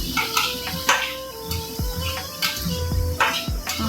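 Chana dal and fish head are stir-fried in a pan with a soft sizzle, while a spatula or spoon scrapes and knocks against the metal in quick, irregular strokes.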